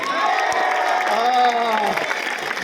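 An audience claps and cheers for a young performer, with a loud, steady wall of applause and a voice calling out over it.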